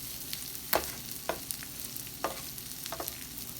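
Sliced steak for Philly cheesesteak sandwiches frying in its own fat in a pan, with a steady close sizzle and occasional scraping stirs of a utensil; no talking.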